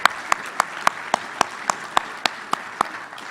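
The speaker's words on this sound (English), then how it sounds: "Let's give these award winners another great round of applause." Slow, evenly spaced hand claps from a small group after award winners are honored at a military panel event, roughly a dozen sharp claps over a steady room hum.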